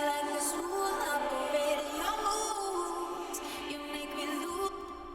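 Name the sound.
reverse reverb vocal effect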